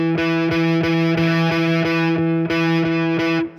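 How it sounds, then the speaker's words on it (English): Electric guitar played through a distortion pedal, a steady run of gritty, buzzing picked notes in a regular rhythm, loud and close, then cutting off at the end. "Here's my distortion pedal."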